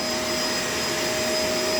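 A Shark LA702 vacuum cleaner runs continuously up close, a loud, steady broadband whoosh with a high whine, no voices over it.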